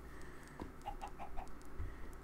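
Chickens give soft, short clucks, a handful of quick notes in a row, over steady outdoor background noise as they are herded toward a gate.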